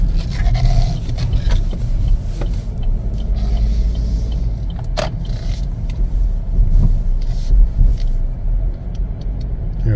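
A 2024 Chevrolet Equinox AWD LS on a test drive, a steady low cabin rumble of engine and road noise with faint clicks and a brief bright tone partway through, no talk.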